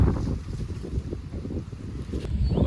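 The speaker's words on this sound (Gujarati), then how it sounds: "પવન વાતાવરણ, પવન જોવો." Gusty wind buffets the microphone outdoors in Sihor before rain, a continuous low rumbling roar with uneven surges and no clear voices.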